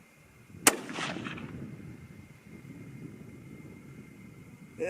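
A single rifle shot, from a 25-06 Remington or 6mm ARC firing 100-105 grain bullets, gives one sharp crack followed by a fading rumble and a low, steady outdoor background.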